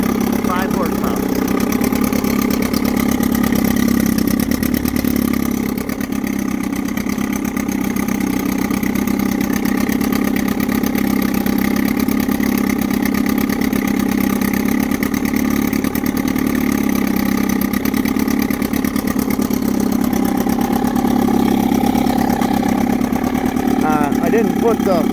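A 1958 Gale Buccaneer 5 horsepower outboard motor runs steadily, loud and close, holding a constant droning idle without pauses.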